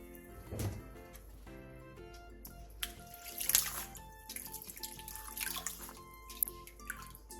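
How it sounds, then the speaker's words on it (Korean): Bean sprouts rinsed in cold water in a home kitchen, with running tap water splashing and dripping at moderate loudness over a faint steady hum. "숙주는 찬물에 헹군 뒤 물기를 충분히 빼놔주세요."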